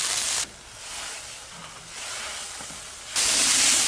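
Broth seasoned with Sichuan peppercorns, salt, soy sauce, cooking wine and vinegar heating toward a boil in a pot, a steady breathy hiss that drops back in the middle and surges louder again at the end.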